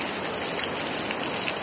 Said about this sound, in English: as you can see, we're getting some rain